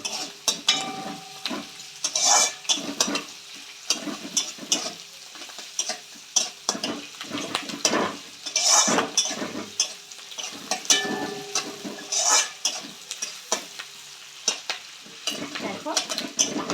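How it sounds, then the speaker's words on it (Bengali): Chopped onions fry in a pan with shrimp for a potato, radish and aubergine curry, sizzling under repeated sharp spatula clacks and scrapes in an uneven rhythm close by. "লাল লাল করে একটু ভাজতে হবে"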